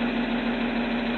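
A bus diesel engine idles steadily at close range, a loud constant low hum with a strong steady drone and faint knocking texture and no talking.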